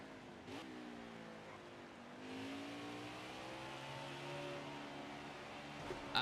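A NASCAR Heat 5 race car at Martinsville holds a steady, droning engine note that rises and falls slightly through the corners. The whine is continuous and moderately loud, with no voices.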